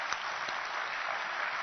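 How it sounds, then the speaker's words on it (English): Conference audience at an energy innovation summit giving a brief burst of applause, a dense and even wash of clapping that carries through without a break. "Wild round of applause for all."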